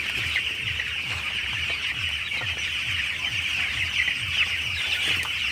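Broiler chickens in a poultry farm, some said to have fever, cluck steadily in a repeating pattern of short calls over a constant high hiss and hum of the shed, with no talk.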